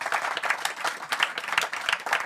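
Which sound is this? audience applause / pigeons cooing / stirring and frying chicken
audience applause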